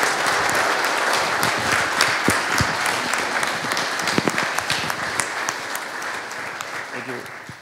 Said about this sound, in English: Please give them strong applause.